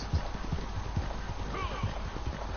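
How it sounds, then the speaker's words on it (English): Hooves clip-clopping from a horse in Red Dead Redemption 2, a steady rhythm of low thuds at moderate volume, with a brief whinny in the middle and game background noise throughout. "Turn around, you stupid horse."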